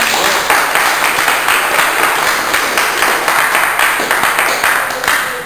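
Audience at a women's boxing match applauding the fighters, a dense, steady roar of clapping from a crowd that fills the whole stretch, loud and close, with no voice on top.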